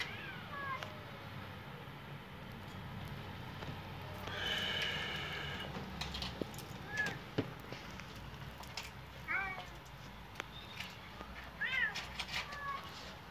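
Street cats squaring off in a fight, with drawn-out yowls, caterwauling and sharp hisses, some close and some farther off, over a low outdoor background, a person briefly audible at times.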